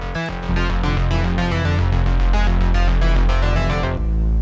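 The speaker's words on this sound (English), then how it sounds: "layering in some other synth parts like this." Layered synthesizer parts play together in a dance-pop track, as for RuPaul's Drag Race. A loud, dense stack of pulsing chords and rhythmic hits drives steadily, then drops to a lower sustained tone near the end.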